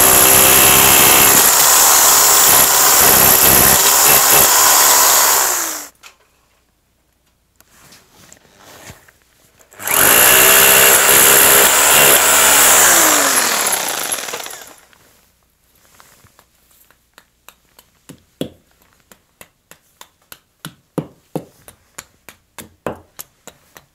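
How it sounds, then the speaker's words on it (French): Rotary hammer drill boring a 14 mm hole into a cinder block wall, two loud sustained bursts of hammering separated by a pause, followed by scattered taps and clatter. "on va percer avec un perfo parce que je suis sur un mur en parpaing"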